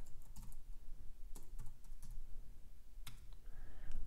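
Quick bursts of typing on a computer keyboard, close and fairly quiet, uneven clusters of key clicks with short pauses, no speech.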